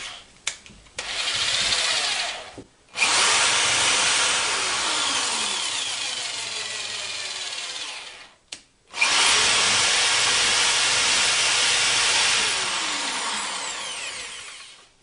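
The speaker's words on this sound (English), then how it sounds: "I'm just going to use a drill here." A power drill whirs loudly as it drives a screw into a woodworking jig, running in two long sustained bursts separated by a brief pause, with a short stuttering start at the beginning.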